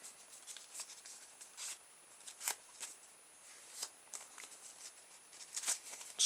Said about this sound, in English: then fold it into a quarter